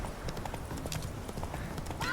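A horse gallops in the Witcher 3 video game, its rapid hoofbeats drumming steadily under a person talking, and a brief whinny comes near the end.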